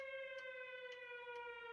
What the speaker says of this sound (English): That Christmas was rhythmed by the sirens from the curfew.